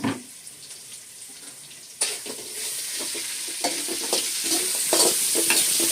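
Long-cut onions fry with curry leaves in oil for a sambar tempering, a quiet hiss that swells into a loud, dense sizzle after a couple of seconds, broken by scraping stirs.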